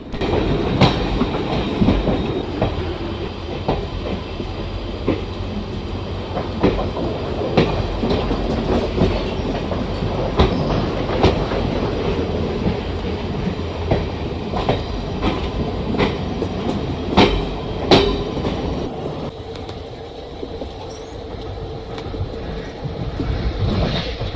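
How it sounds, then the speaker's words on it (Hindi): The Kottayam-Nilambur Express (16326) runs in the Railworks train simulator, its wheels giving a steady rolling roar with repeated clickety-clack rail joint beats as it crosses a small bridge, loud and continuous with no talking. "हमारी ट्रेन अभी एक छोटे से ब्रिज के ऊपर से क्रॉस कर रही है"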